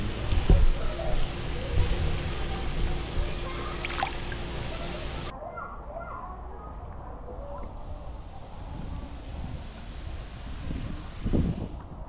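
Steady wind rushing and buffeting across the microphone, with a low rumble and faint watery sounds beneath, and no one speaking.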